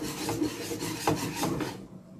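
Thick homemade cheese mixture is stirred hard in a pot on the stove, giving a steady close scraping and rubbing with rhythmic strokes and no talk.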